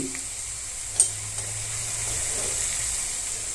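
Cumin and mustard seeds sizzling in hot oil while gourd gravy masala is prepared, a soft steady hiss with a faint stir click near the start, no voices.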